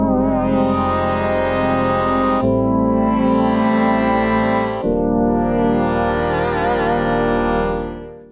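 Yamaha B200 keyboard playing a user-edited synth patch named Profit, a bright, buzzy sustained tone with effects, held as three long chords of roughly two and a half seconds each, loud and continuous, with no voices.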